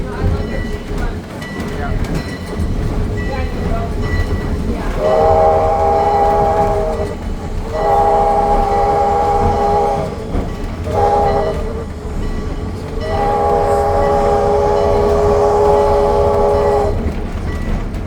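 Steam locomotive train rolling along with its horn sounding in several long, loud blasts, separated by brief pauses, over a steady rumble of the train, with voices faintly underneath.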